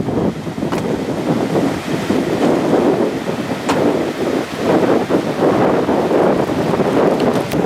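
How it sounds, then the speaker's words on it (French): Strong wind buffets the microphone in a steady roar with gusts, with choppy water from a rough lake faintly beneath and no voices, in Madagascar. "il y a beaucoup de vent"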